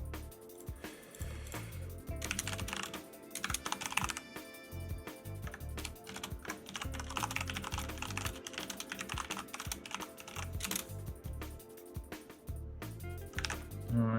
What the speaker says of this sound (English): I'm typing fast and letting people know